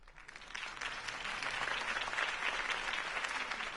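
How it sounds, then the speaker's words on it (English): Steady crowd applause in the video game Batman: The Telltale Series, a dense sustained patter of many clapping hands that swells slightly and holds without letting up. "could have heard that applause"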